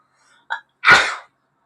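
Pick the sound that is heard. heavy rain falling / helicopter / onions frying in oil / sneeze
sneeze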